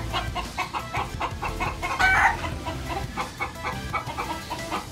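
Two young stag roosters, a sweater line of gamefowl, cluck and crow repeatedly and loudly at close range, their noisy calls overlapping in a busy, continuous chorus.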